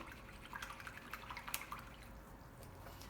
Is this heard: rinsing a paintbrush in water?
yes